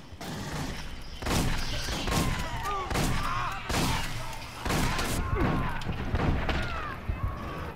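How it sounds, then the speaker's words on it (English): Repeated shotgun blasts from the video game Aliens: Colonial Marines, loud, close bursts at irregular intervals over about eight seconds, with crashing impacts and game noise between shots. "Shotgun time."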